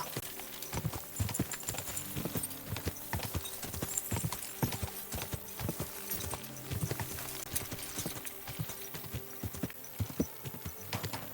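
Rapid hoofbeats of a galloping horse in the video game Kingdom Come: Deliverance 2 pound steadily and close, a fast continuous clatter with no talking.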